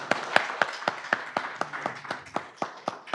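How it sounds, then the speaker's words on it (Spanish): Sparse, slow clapping from a small audience at a formal transparency and information-access forum, about a dozen distinct claps in an even rhythm, fairly faint and with no voices. "no estará de más brindarle un fuerte aplauso de manera muy respetuosa"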